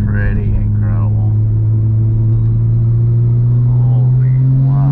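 A turbocharged 800hp Porsche GT3 Cup race car converted for street use holds a deep, steady engine drone at near-constant pitch, loud and close, with faint voices at moments.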